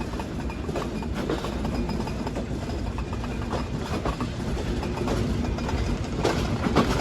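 The Rupsha Express pulls out of Jessore railway junction in Bangladesh, a steady dense rumble of wheels and carriages with faint rhythmic clacking, close and continuous from on board, with no voices.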